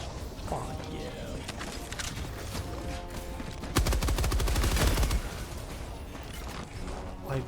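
Rapid bursts of gunfire in a co-op shooter video game, with grenades in play, crack out between about 3.8 and 5 seconds, loud and dense over a busy background of game effects and someone talking.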